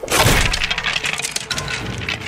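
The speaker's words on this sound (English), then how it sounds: "It's the sound of all the bones falling on the ground." A loud clattering crash of skeleton bones falling on the ground, a burst of cracking and rattling pieces that quickly thins out.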